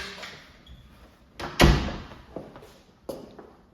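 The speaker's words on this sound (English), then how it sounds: "I'm gonna let the door shut." A door in an apartment being readied for new tenants swings shut with a solid thud, followed by a few lighter knocks and taps, heard close up in a quiet room without talk.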